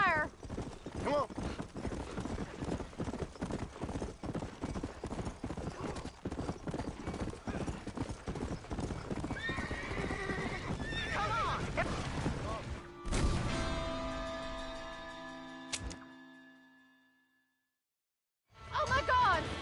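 Hooves clatter steadily in a burning barn in Red Dead Redemption amid chaotic game action and shouting voices, with a brief horse whinny, then a sudden crash and a fading roar before near silence.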